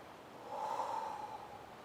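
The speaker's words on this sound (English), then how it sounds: "Inhale up and exhale." A single audible breath, a soft inhale swelling into a nasal exhale, taken during a side-stretch ab workout, close and moderately quiet with no talking.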